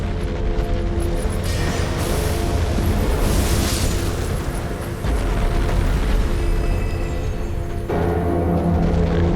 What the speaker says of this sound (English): Everything is on bloody fire.